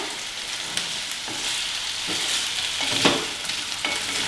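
Potatoes fry in a pan with a constant close sizzle, punctuated by several scraping stirs of a spatula, moderately loud with no voices.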